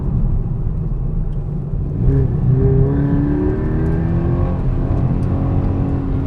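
A Toyota GT86 or Mazda NC MX-5 engine at a karting track rumbles steadily, then revs up around the middle, its pitch rising and falling in a few loud, close pulls.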